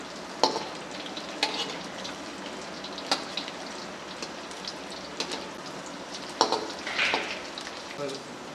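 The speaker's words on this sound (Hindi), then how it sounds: "तकरीबन फ्राई हो चुका है, 1-2 मिनट और लगेंगे इसे।" Chatkhara boti meat for an Eid ul Adha recipe fries in a pan with a steady, close sizzle, broken by regular scraping clacks as it is stirred.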